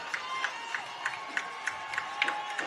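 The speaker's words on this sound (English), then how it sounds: "Crowd revving it up here on first down for Scituate" Crowd noise at a high school varsity football game, Holliston versus Scituate, a steady distant roar of fans with rhythmic bursts like chanting or clapping repeating about every third of a second.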